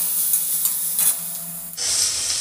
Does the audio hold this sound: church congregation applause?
no